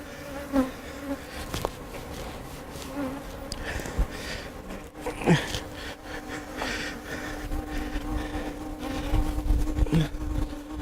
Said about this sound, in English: back to sucking bees